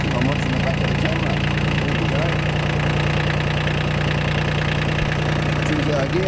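A tractor engine idles steadily while warming up, a loud continuous low rumble with a faint knocking pulse filling the whole stretch without breaks.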